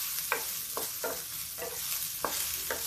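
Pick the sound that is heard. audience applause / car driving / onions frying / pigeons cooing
onions frying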